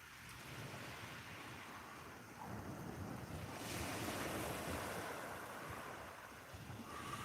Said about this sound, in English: that's just the waves coming in on a stony beach.